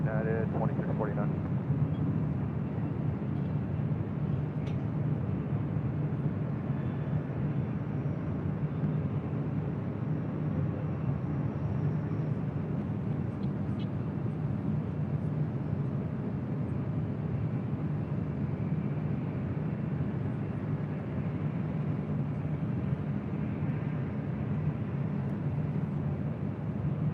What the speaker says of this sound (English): That right there, that is Southwest Airlines flight 39. We'll be heading to Reno, Nevada, the 737-800.